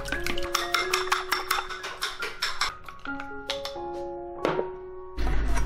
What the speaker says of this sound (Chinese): 再来把鸡蛋打散。